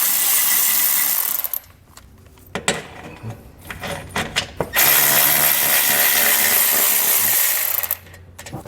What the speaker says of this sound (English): we have 3 10mm screws that go into the subframe on our splash shield here. So we're going to go ahead and get those removed